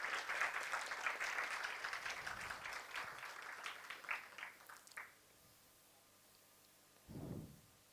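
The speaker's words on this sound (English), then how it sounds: "A big round of applause to mark this historical partnership" Audience applause for an MOU signing between Kirloskar Pneumatic Company and VJTI, a steady burst of clapping for about five seconds that abruptly stops, leaving quiet room tone and a brief low thump near the end.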